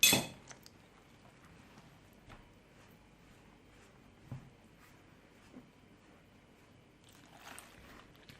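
A spoon stirs dry yeast into water in a tea glass, giving a few faint, sparse glassy clinks spread over a quiet background with no talking.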